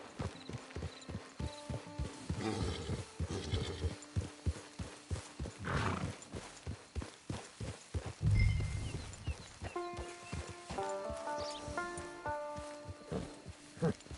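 Horse hooves clip-clop in a steady walking rhythm in Red Dead Redemption 2, with a horse snorting and whinnying, over a soft musical backdrop.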